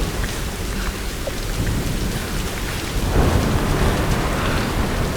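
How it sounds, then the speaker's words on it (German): A thunderstorm in the Tomb Raider video game, with dense steady rain hissing on surfaces and a deep rumble of thunder swelling partway through, loud and continuous with no voices. "Mann, das ist ja ein Sturm,"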